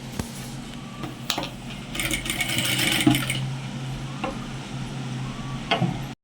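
Sewing machine stitching a thin-fabric blouse with puff sleeves, a steady mechanical whir with ticking clicks and a louder burst of running stitches midway, close by with no talk.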